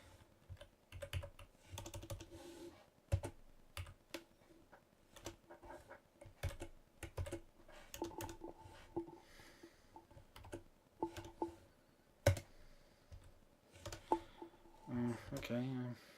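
Rapid clacking keystrokes on a Commodore 64 keyboard while entering a BASIC program, coming in irregular bursts with pauses, heard close up as a person talks intermittently.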